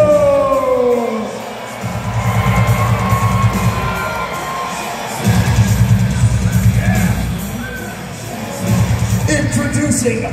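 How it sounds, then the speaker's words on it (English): A huge crowd at a Hot Wheels Monster Trucks Live show in Manchester's AO Arena roars, screams and cheers in loud swelling waves, with booming echoes filling the space. "Manchester, let it hear you scream for Ashton Jackson in Boat Shaper!"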